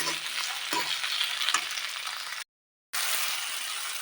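Tomatoes sizzle in oil with onions in a pan while a spoon scrapes and knocks against the metal, a close, steady frying hiss that cuts out abruptly for half a second before resuming, with no voices.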